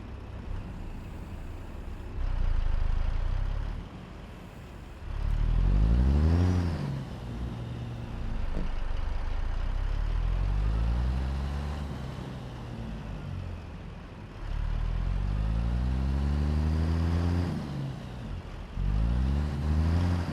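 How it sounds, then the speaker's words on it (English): A deep Cat C15 diesel engine on a Freightliner Cascadia truck in American Truck Simulator revs up and settles repeatedly, each rise in pitch climbing and falling with the throttle. "let's go ahead and listen to this beautiful, beautiful, beautiful Z-Mod's Cat C15 engine sound."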